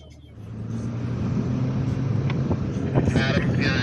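Toyota A90 Supra engines idling and warming up outdoors in the morning, a low continuous rumble that swells slightly, with wind noise and faint activity around.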